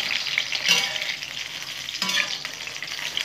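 Eggplant slices fry in hot oil, a steady close sizzle with two brief louder flares where they are stirred or turned in the pan.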